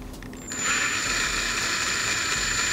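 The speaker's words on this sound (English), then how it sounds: "this is 5mm acrylic and this is a 5mm drill bit." Power drill boring through 5mm acrylic with a 5mm bit, a sudden high whine that spins up after a short pause and holds steady and fairly loud to the end.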